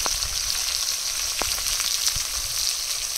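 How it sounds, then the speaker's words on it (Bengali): Chopped onion and whole garlic cloves fry in hot oil in a pan, giving a steady close sizzle with a few faint scrapes and taps over it and no talking. "এবার কেটে রাখা পেঁয়াজ আর 5টা-6টা গোটা রসুন একসাথে দিয়ে কষিয়ে নেব।"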